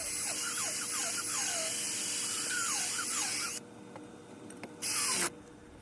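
An electric drill spins a 12 gauge copper wire shotgun cleaning brush against heavy, crusty rust, giving a loud, steady high whine for about three and a half seconds. It cuts out, then returns in a short burst.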